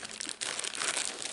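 Tin foil handled and crinkled by hand, a close, dry crackling rustle with irregular crunchy bursts, fairly quiet and without talk.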